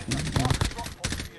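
Red dot sniper rifle fire in a video game, a loud rapid cluster of shots followed by one more report after a short gap.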